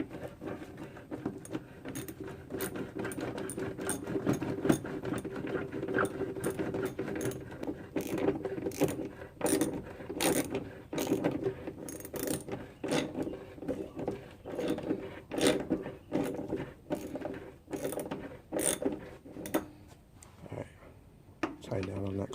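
A ratchet clicks in uneven runs as it tightens 10mm screws on the ECU of a 2009 Hyundai Elantra, the strokes fairly close and moderately loud beneath a low background rumble, with no voices.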